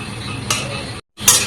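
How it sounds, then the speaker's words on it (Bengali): Pumpkin leaves being stirred in a pan over gas heat to dry off their water: a soft scraping stir over a light sizzle, briefly cut to silence before resuming with a louder scrape. "একটু নাড়াচাড়া করে জলটা শুকিয়ে নেব।"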